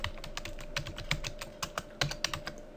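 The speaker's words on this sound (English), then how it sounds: "we can simply type" Quick, uneven keystrokes on a computer keyboard, near and clear, entering a competitor's web address into a search field, with no talk over the clicks.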